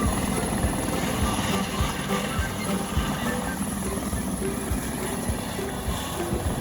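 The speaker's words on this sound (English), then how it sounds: "we get to see a helicopter take off." A helicopter taking off and hovering, its steady rotor and engine roar loud and continuous, with a rhythmic low thudding throughout.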